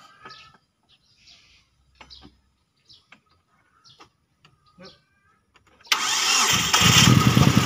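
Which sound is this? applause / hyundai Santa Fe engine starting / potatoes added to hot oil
hyundai Santa Fe engine starting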